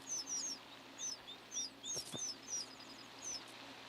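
Small birds in a cross timbers forest of trees and interspersed grassland repeat high, thin chirping calls in short regular bursts, faint and somewhat distant over quiet background hiss, with a brief tap midway.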